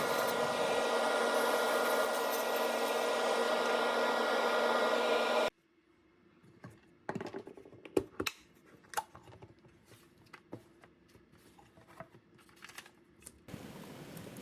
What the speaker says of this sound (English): Moving on to the skew chisel here to define the bottom and the tenon.